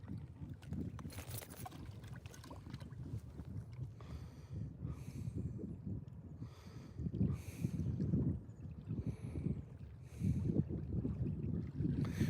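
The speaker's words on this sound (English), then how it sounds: "Boy, that wind really started picking up again, huh?" Wind gusts buffet the microphone on a boat out on a reservoir, a continuous low rumble that swells and fades in waves over water.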